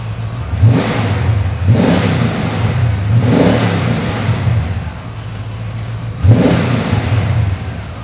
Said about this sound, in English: Let me rev it up for you so you can hear.